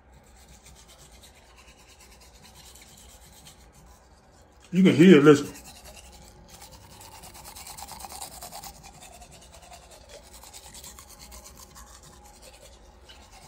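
A toothbrush scrubs teeth in one brief, close rasping burst of about half a second, followed by softer rubbing under a quiet background. A voice speaks briefly.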